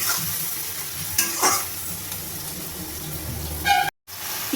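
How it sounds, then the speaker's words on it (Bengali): Chopped tomato and onion with salt fry in a pan, giving a steady sizzle broken by a few brief bursts of stirring and scraping, close and fairly loud, with no speech. "টমেটো কুচি আর পেঁয়াজ কুচিটাকে ভালোভাবে ভেজে নেওয়ার জন্য আমি এখানে স্বাদ মতো নুন দিয়ে দেবো।"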